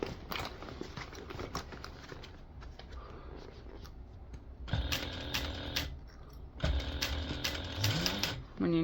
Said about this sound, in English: here you should be sewing directly next to the Decoville Heavy